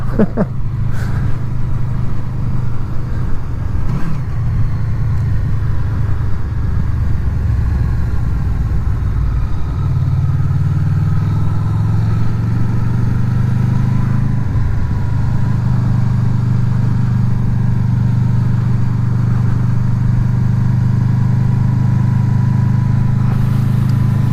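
A Honda VFR800 motorcycle engine drones steadily while riding toward Wet Sleddale in windy conditions, loud and continuous, with the pitch shifting as the bike changes speed and wind buffeting behind it throughout.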